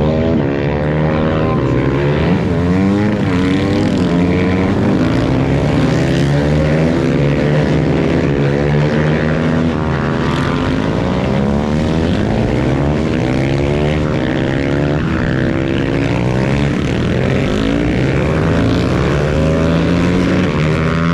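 Supermoto racing motorcycles on the last lap of a race in Guadeloupe make a loud, continuous engine roar. Several overlapping engine notes rise and fall in pitch as the bikes accelerate and pass.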